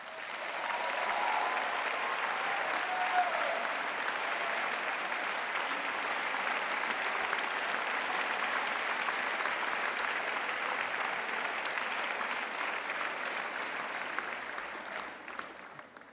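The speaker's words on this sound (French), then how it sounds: "merci de les applaudir également, s'il vous plaît." Sustained audience applause at a graduation commencement ceremony for a grande école's Master and PhD class, a steady wash of clapping from a large crowd lasting throughout before tapering off at the end.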